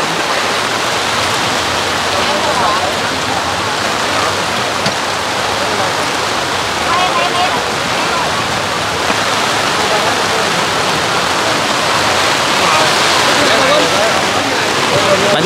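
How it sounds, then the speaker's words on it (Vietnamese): Heavy rain pours steadily outside a street food stall selling rice paper snacks, a dense continuous hiss at constant loudness with voices faintly underneath. "Hiện tại phía bên ngoài là trời đang mưa"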